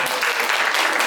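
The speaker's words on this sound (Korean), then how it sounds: "박수로 부탁드립니다." Audience applause at a university innovation forum, a steady broadband wash of clapping that stays loud and even for the whole short moment with no pauses.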